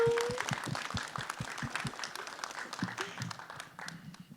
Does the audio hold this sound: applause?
yes